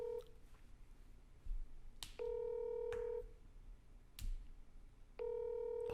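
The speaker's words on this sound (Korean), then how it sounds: "지금 바로 전화하도록 하겠습니다." A phone call being placed: three sustained dialing or ringback tones sound at even intervals, each followed by a brief gap, close and clean against a low, quiet background.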